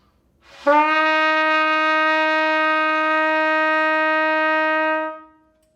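A single sustained trumpet note, F, rings out alone for about four seconds, steady and clear, then fades quickly.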